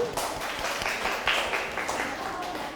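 Brief classroom applause follows a group presentation, with moderate, scattered clapping from students under a bed of room noise and some voices.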